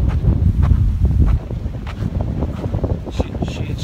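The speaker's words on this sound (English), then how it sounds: "it's windy, guys. It's a typhoon out here." Strong, typhoon-like wind buffets the microphone outdoors, a loud, steady low roar with gusty rustling throughout and no speech over it.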